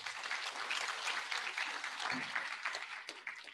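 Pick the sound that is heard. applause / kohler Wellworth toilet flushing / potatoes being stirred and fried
applause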